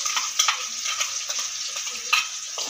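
Onion, tomato, ginger and garlic paste frying in a pan for matar paneer, a steady close sizzle with a few soft stirring scrapes and light clinks, no talking.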